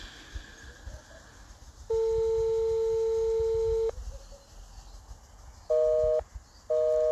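Telephone network tone signalling that the person being called is already on another call: a loud, steady two-second tone, then two short beeps, with no talking over it.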